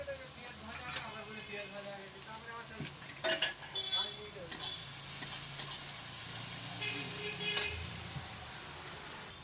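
Onions frying in a pan are stirred, with continuous sizzling broken by scraping strokes and occasional light clinks of a utensil against the pan.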